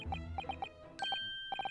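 Small bells in The Great Ace Attorney Chronicles give short bright jingles in quick clusters of two to four strikes, clear and close, separated by brief pauses with a sustained tone in the middle.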